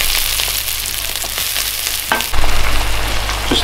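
Rendered fat and spring onions fry in a pan, a loud continuous sizzle with crackles and a stir that briefly swells the hiss as the ingredients go in.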